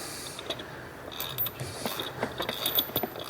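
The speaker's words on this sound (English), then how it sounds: "Sometimes you have to use a ratchet wrench on the other one because you can't get a socket in there" Ratchet wrench driving lag bolts while mounting an air compressor's slotted brackets in a garage, heard as bursts of quick metallic clicking with irregular pauses, close and moderately loud with no talking.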